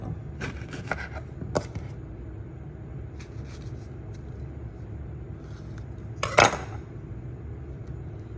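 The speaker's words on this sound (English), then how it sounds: "So then I'm gonna slice up. I'm doing 45 grams of banana today." A knife slices a banana on a board in a home kitchen, giving soft, sparse taps and cuts over a low background hum. One louder clatter comes near the end.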